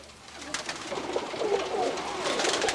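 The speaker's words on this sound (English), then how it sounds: "You have some first-class pigeons." Pigeons in a breeder's loft coo in soft, rising and falling calls through the second half, over a steady rustling background of birds moving close by.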